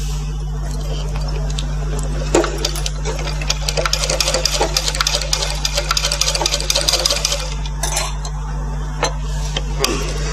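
A sewing machine runs steadily while stitching a blouse seam, with a constant low mechanical hum and dense rapid ticking of the needle, close and fairly loud throughout.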